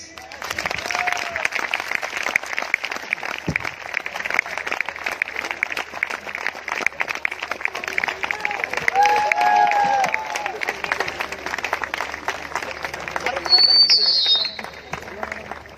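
Applause from an audience at a family-honouring ceremony: dense, steady clapping fills the whole stretch with crowd noise and some voices, swelling slightly near the end.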